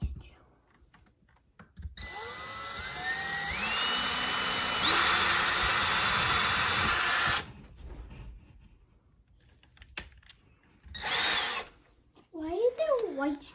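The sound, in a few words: drill ripping through drywall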